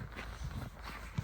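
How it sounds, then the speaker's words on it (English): Footsteps trudging through deep snow on a farm, a few muffled crunching steps close by over a low rumbling background. "Walking through the snow."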